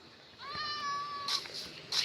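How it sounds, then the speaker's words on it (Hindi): A cat in the video game Minecraft gives one clear, drawn-out meow near the listener, followed by brief bright bursts of other game sounds, with no talk over it. "रुक जा बिल्ली रानी। आजा बिल्ली।"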